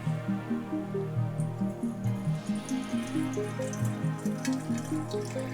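Boysenberry syrup pours through a coffee filter set in a funnel, a steady trickle with rhythmic gurgling drips and bubbling, fairly quiet and close.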